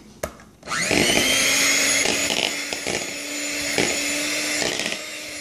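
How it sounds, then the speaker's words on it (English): An electric hand mixer whisks Nutella banana bread batter with sour cream, starting abruptly after a brief knock and then running as a loud, steady whine with a faint pulsing change in pitch. "we're gonna give this a whisk"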